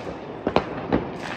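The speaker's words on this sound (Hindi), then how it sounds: "लोग अपना घरों से मस्त मिसाइलें अपने पटाखे" New Year fireworks and firecrackers set off from houses along a street in Germany, heard as a few sharp cracks and pops over a steady background rumble.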